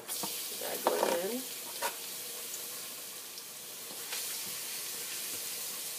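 Minced garlic hits hot olive oil with a brief burst of sizzling near the start, then settles into a soft, steady frying hiss with faint stirring clicks for the rest.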